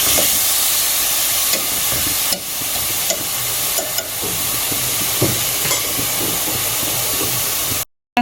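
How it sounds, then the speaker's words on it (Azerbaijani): Onions fry in butter, sizzling loudly and steadily in a pan, a constant close hiss broken by occasional stirring scrapes, cutting out abruptly near the end. "Soğanımızı qovurduq"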